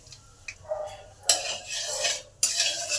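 Whole cumin seeds, two dried red chillies and a bay leaf fry in hot oil in a karahi, with soft sizzling under loud bursts of metal scraping and stirring.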